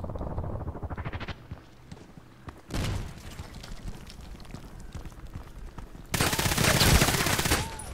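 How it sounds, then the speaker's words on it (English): Gunfire and grenade blasts from the Contract Wars online shooter, with bursts of automatic fire and loud explosive booms, the biggest near the three-second mark and a sustained loud burst toward the end. "So many nades. Nades are flying."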